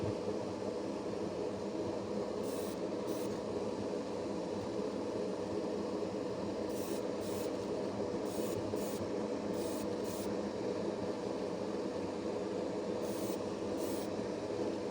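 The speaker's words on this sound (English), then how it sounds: "I just go ahead and finish spraying it" A spray can hisses steadily while painting a kitbashed model, a continuous close airy rush with brief breaks in the spray.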